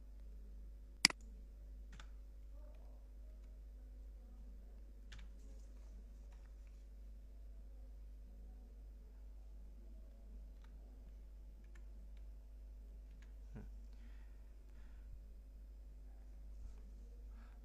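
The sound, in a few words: typing on a computer keyboard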